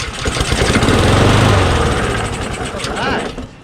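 A Troy-Bilt push lawnmower with a Honda GCV160 engine runs close by, a loud, steady mid-pitched engine drone that holds for a few seconds and then eases a little.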